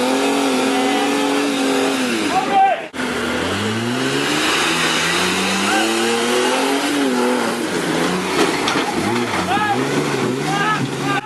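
A four-cylinder diesel automatic 79-series four-wheel drive on 35-inch tyres is driven off-road, its engine revving loudly and up close, pitch rising and falling repeatedly as it climbs and shifts over about eleven seconds.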